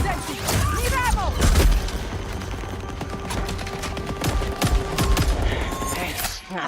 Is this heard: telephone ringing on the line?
no